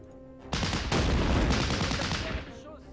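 A burst of rapid gunfire from the World War II strategy game Battle Academy 2, a dense volley of several shots lasting about two seconds, fairly loud over a quiet background.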